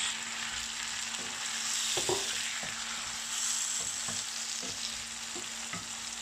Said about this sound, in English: when your garlic gets slightly browned, then you add the tomatoes